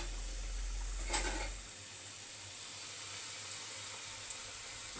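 Adhirasam dough of rice and jaggery frying in hot oil, a steady close bright sizzle with one brief splashy burst near the start over a low hum.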